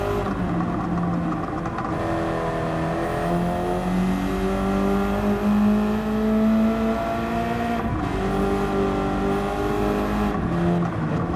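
A turbocharged race car in Gran Turismo 7 drones steadily and loudly throughout, its engine pitch rising and falling as it accelerates and eases off, with no talking.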